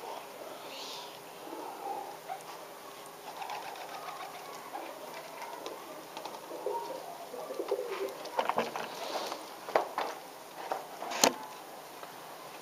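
Pigeons cooing in a loft area, soft repeated coos spread across the clip with scattered brief chirps and flutters, faint and mid-distance with no talk.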